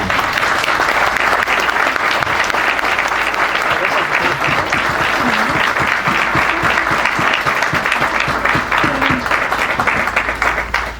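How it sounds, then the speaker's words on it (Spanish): Audience applause at a conference on blockchain and white-collar crime, a long, loud, steady round of clapping with faint voices briefly audible beneath it, fading at the very end. "Recibámoslos con un fuerte aplauso, por favor."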